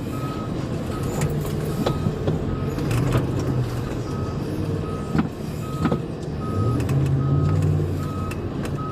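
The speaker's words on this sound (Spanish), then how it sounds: "este sospechoso sabe conducir bastante bien marcha atrás" A pickup truck backs up during a police chase, its reversing alarm beeping in a steady, evenly spaced pattern over a constant rumble of engines and traffic.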